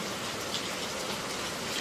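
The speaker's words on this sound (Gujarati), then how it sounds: "હવે વરસાદ હે" Steady, soft rain falling continuously, a dense even hiss with no pauses or other sounds.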